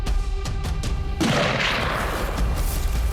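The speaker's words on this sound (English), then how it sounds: "With the sound of gunfire" Gunfire crackles during an elk poaching stop in Montana's countryside, a rapid burst of sharp close shots followed by a booming, rumbling report that lingers with scattered pops.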